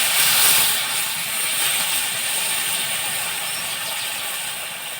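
Water poured into a hot pan of tomatoes while aloo dum cooks in the evening gives a loud, steady, broad hissing sizzle that holds throughout and eases slightly toward the end.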